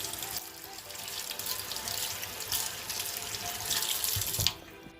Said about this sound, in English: I'm actually gonna just go ahead and rinse this because I don't want to have rice in my beans.